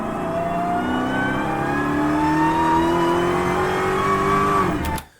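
An 807 HP Dodge Challenger Hellcat Super Stock engine roars under a sustained, loud rev with rising and shifting harmonics, then cuts off abruptly near the end.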